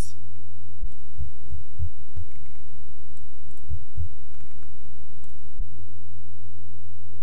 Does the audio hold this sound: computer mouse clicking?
yes